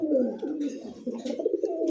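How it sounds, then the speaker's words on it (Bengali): A male Blackless pigeon coos close by, a low throaty rolling call repeated in soft pulses with no other sounds around it. "ডাকতেছে ব্ল্যাকলেস নর কবুতর"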